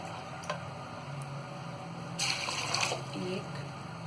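Two glasses of water pour onto chickpeas in a metal pressure cooker in a short hissing splash, with faint clinks before it over a quiet background hum.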